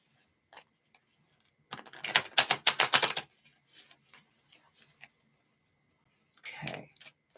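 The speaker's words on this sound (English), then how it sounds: "I'm going to reshuffle the cards." Tarot cards are reshuffled in a quick burst of dense, crisp flapping clicks lasting about a second and a half, followed by a few isolated taps and card handling noises in a quiet room.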